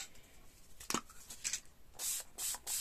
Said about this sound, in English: and then grab my water spray